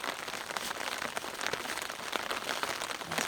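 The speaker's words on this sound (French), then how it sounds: "Donc aujourd'hui, il pleut." Rain patters steadily on the fabric of a tent during a sea-kayaking camping trip in the Mingan Archipelago, a dense, even hiss of drops close by, with no voices.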